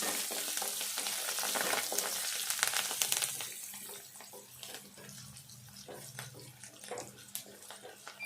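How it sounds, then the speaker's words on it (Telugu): Onion pieces fry in oil for an onion masala rice, a close sizzle that is fuller for the first few seconds, then quieter, with occasional stirring scrapes and clinks. "ఈ ఉల్లిగడ్డ ముక్కలు ఇంకా కూడా కొద్దిసేపు మంచి రెడ్ కలర్ వచ్చేదాకా వేగాలి."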